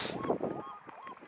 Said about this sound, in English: Here's that goose, white goose.